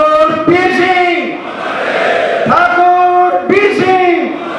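A crowd at a birth anniversary celebration in Bhiwani chants slogans in loud rhythmic unison, with repeated shouted phrases and a dense roar of voices between them.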